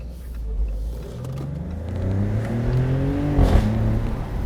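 Maserati GranCabrio Trofeo in sport mode, top down, its engine revving up from idle in a rising, throaty surge with a sharp bark near the end, loud and close.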